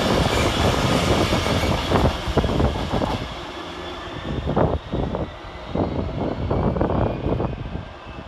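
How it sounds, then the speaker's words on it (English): Freight train 66536, a locomotive hauling container wagons from Southampton MCT to Lawley Street, passes through Leamington Spa station, a loud continuous rumble and clatter of wagons rolling by close, with no talking. "Next passing through the station is 66536, working OM45 from Southampton MCT to Lawley Street."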